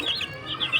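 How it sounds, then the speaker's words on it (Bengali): Tiger chicken chicks cheep in a few quick, high chirps close by, with no talk. "ছোট ছোট কত সুন্দর কিউট কিউট মুরগির বাচ্চা।"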